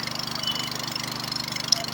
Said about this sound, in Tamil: வாட்டர் பம்பு 3 இன்ச்சு தண்ணி தான் நல்லா கொஞ்சம் ஃபோர்ஸாக போயிட்டுருக்கு